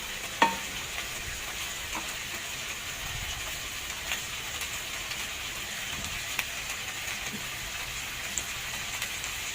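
Chicken pieces for chicken curry sizzle in a pan, a steady moderate crackle like light rain, with a sharp scrape as the pieces are flipped and occasional soft clicks.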